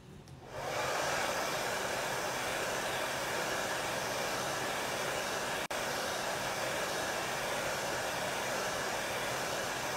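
A hair dryer switches on and blows steadily at close range to dry chalk paste on a craft project, a loud continuous whoosh broken by a momentary dropout midway.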